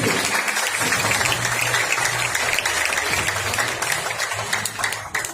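Steady audience applause at a symposium-style gathering, dense and continuous clapping filling the room at full level before tapering slightly near the end.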